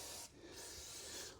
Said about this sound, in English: I like to spray it over these threads